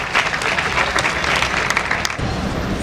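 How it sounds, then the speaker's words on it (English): A class or audience at a light and light-technology museum in Ghana bursts into loud, dense clapping that holds steady throughout, briefly dipping near the end. "Clap for the nice applause."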